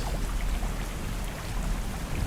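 Cartoon sound effect of heavy rain with thunder at a river ferry ghat, a dense continuous downpour hiss over a low rumbling roar.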